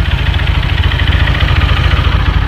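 A bored-up Megapro/Verza motorcycle engine idles smoothly and steadily up close, a low even thrum with a slight vibrating pulse and no changes in speed.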